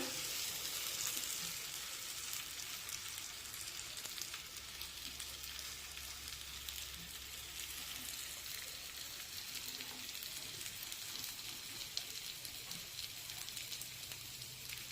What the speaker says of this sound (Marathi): आता हे थालीपीठ आपण तव्यावर टाकूया तव्याला थोडंसं तेल लावून घेऊया